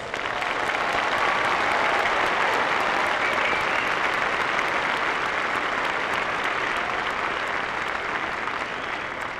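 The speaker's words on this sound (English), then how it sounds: "Let's all join in a round of applause to congratulate our graduates." Sustained applause from a large audience at a spring commencement ceremony for doctoral, MFA and medical professional graduates, loud and steady throughout with no break.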